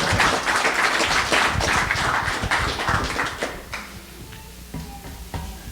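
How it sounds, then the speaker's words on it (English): A church congregation applauds a visiting guest minister with full, dense clapping that thins after about four seconds into scattered individual claps before dying away. "let's give the man of God just a round of applause, too"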